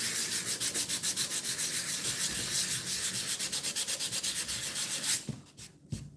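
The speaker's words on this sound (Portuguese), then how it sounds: "eu vou pegar essa lixa aqui, deve ser a 240 ou 220" A painted wooden plaque being sanded by hand with 220 or 240 grit sandpaper, a close, even run of rhythmic back-and-forth scratchy strokes that stops near the end, leaving a few light handling taps.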